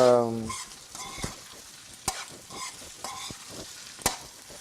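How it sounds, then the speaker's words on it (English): Shrimp frying in a hot pan, a steady moderate sizzle with several sharp clinks and scraping stirs of a utensil against the pan at irregular intervals. "Now we put our shrimps. That goes in. The shrimp goes in now"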